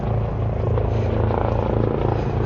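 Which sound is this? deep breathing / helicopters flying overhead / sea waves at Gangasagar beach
helicopters flying overhead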